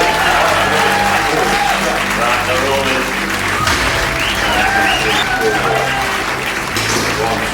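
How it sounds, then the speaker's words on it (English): A crowd at an England versus Scotland one-minute wood screw driving challenge bursts into loud, dense applause and cheering that carries on throughout, with an excited commentator's voice over the noise. "the Englishman I think's taking this one. And the crowd go mental."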